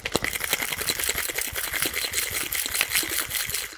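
Big rock of ice cracking and breaking apart inside a metal cocktail shaker tin, a dense continuous rattle of ice shards and clinking against the tin with liquid sloshing, close and steady throughout.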